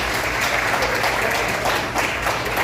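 A church congregation on its feet applauds in thanksgiving during a worship service, giving dense, sustained clapping that fills the hall at an even level throughout.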